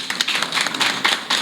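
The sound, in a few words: audience applauding a partner at a supporters' event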